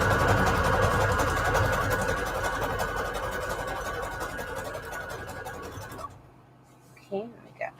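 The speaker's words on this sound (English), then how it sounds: "So let's get this sewn on." A sewing machine stitches paper pleated scrap trim onto a book page, a close, continuous whirring drone for about six seconds that stops abruptly, followed by quiet handling and a couple of brief clicks.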